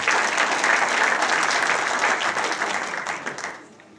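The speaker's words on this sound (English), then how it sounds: "A round of applause" Steady, dense applause from the audience at a borough council sports awards evening, held at an even level for several seconds before quickly tapering off.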